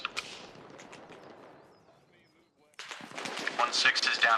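Incoming indirect mortar fire in a military video game: a sharp crack near the start, then after a quiet lull a loud, sustained burst of explosive rumble and crackling impacts, with voices over the combat.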